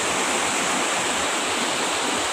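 Water pours steadily into a pool at a spring resort, a loud, dense rushing roar that stays constant throughout with no voices.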